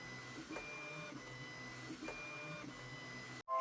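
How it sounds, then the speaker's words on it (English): A 3D printer printing a round part for a Star Trek U.S.S. Defiant model, giving a quiet, steady electronic whine with soft rhythmic stepper-motor pulses about every half second, ending abruptly. "Next, I simply let the printer do its thing."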